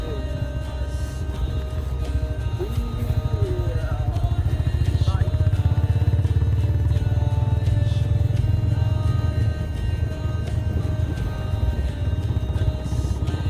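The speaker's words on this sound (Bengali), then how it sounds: "আর 7 ডিগ্রি সেন্টিগ্রেডে এখন আমরা বাইক চালাচ্ছি।" A motorbike is ridden on an open road in cold early-morning air at about 7°C on a trip to Ujjain. Its engine drones steadily throughout under constant wind rush, with no talk.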